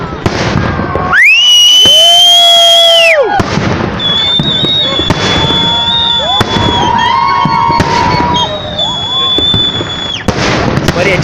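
City day fireworks display over Voronezh, loud close bursts and whistling rockets rising one after another, with excited voices talking throughout.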